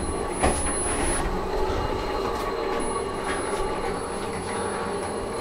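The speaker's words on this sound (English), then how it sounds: "Servos make the house squeal." Servo motors on a homebuilt 4 x 8 pipe gantry CNC machine give off a steady, high continuous squeal over a dense mechanical hum, loud and unbroken throughout.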